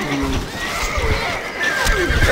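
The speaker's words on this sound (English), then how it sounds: "الفرس تعدو." Horse whinnying in the video game Stronghold Crusader, a loud, close, wavering neigh with a second rising cry near the end over a busy battle din and faint hoofbeats.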